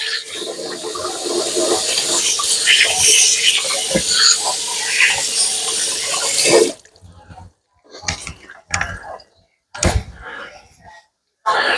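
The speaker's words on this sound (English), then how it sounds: "Wash my hands here." Hands being washed under a running kitchen tap while cooking a bacon, mushroom and Swiss cheese meatloaf; a steady loud rush of water for several seconds, then brief splashes and rinsing bursts with gaps of quiet.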